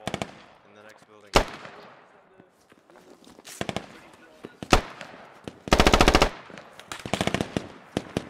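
Bursts of automatic gunfire from the Squad tactical shooter game, with sharp, loud volleys around a fight over rooftops and a wall, spaced by quieter gaps and scattered single shots, with voices in between.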